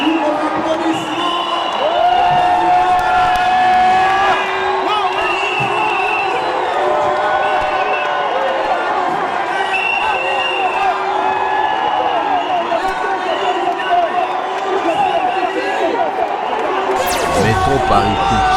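Large crowd at a welcome event in Paris for a visiting president and first lady, applauding and cheering in a dense, loud, continuous roar with whoops and shouts throughout.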